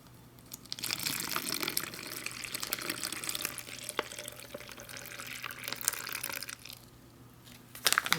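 Water pours steadily into an MRE ration pouch, a close, continuous gushing fill that runs for several seconds before stopping, followed by brief plastic handling noises.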